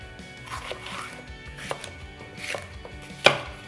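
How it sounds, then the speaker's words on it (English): Food processor blades chopping half a red pepper for a spaghetti bolognese sauce, a steady whirring clatter with a few sharp knocks and a loud bang near the end, close and without talk. "And then it goes into the processor."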